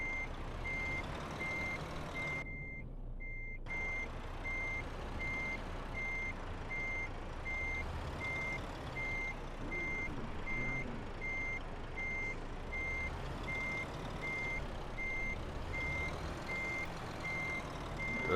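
A truck in Euro Truck Simulator 2 reverses with a steady, evenly spaced electronic reversing beep over a low engine hum, no speech.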